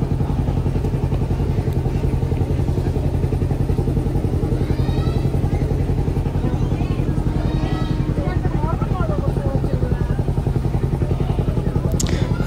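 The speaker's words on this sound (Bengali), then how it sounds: "আমাদের লঞ্চ ছেড়ে দিয়েছে।" A motor launch pulls away on a Sundarbans trip, its engine giving a loud, steady low rumble that fills the whole stretch, with voices faintly audible over it.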